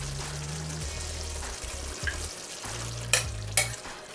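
Marinated shrimp sizzle and fry as they go into a curry base in a pan, a steady crackling hiss with stirring scrapes and a couple of sharp clinks, close up.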